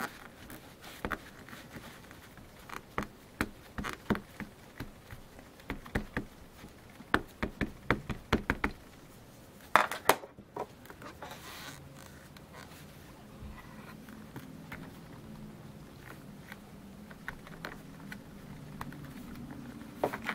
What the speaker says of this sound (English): So I'm going to actually stamp it now. I'm going to use this Simon Says Khaki just to stamp the background.